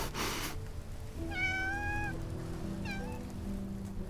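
A cat in the video game Love and Deepspace gives two short meows, the first longer and rising, the second brief, over a quiet, steady musical hum.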